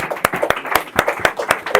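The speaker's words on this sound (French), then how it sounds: "Je vous demande d'applaudir Sylvain." An audience claps for a surprise guest at a talk event, with regular, fairly close claps that fall into a steady rhythmic beat and murmuring underneath.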